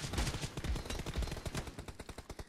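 M416 rifle fire in the video game PUBG, a rapid automatic burst of dense, punchy shots that runs steadily and then thins toward the end, loud and with no talking.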